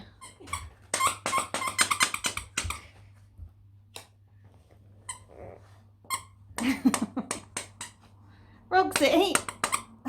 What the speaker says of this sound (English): Blimmin' squeaky toy!